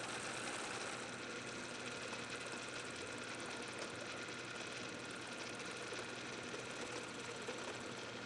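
An electric mixer whips cream in a chilled bowl with a whisk, a continuous even motor whir that holds steady and close throughout.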